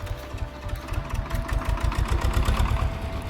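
A tractor engine runs in an open, sun-baked farm field, giving a steady, close, rhythmic low chugging with a mechanical rattle on top.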